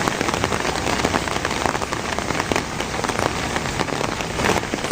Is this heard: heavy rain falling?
yes